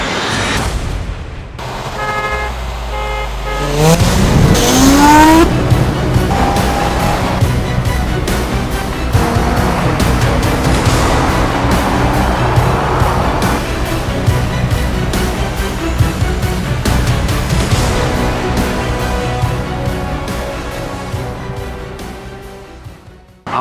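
A BMW M5 E60 launches hard from a standstill, its loud engine note climbing through the gears and roaring steadily for over fifteen seconds with close wind and road noise.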